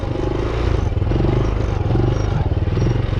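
Motorcycle engine running steadily and loud at close range while the rider holds slow wheelies, a continuous low throbbing rumble with slight pulsing and no clear revving peaks.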